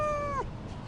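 A cat lets out a single short, clear meow at its own reflection, close and alone, ending abruptly.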